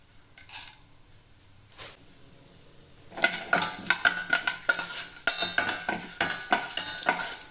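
Urad dal roasts in a pan, stirred with a utensil: a quiet stretch, then rhythmic scraping and clinking strokes against the pan over a faint sizzle, close up.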